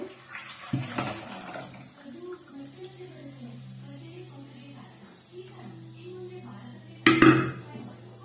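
Food, a mashed mung dal paste, being put into a cooking pot for thin sambar, with a thud and clatter of metal utensils near the start and a sharper knock near the end, while a continuous low hum runs beneath.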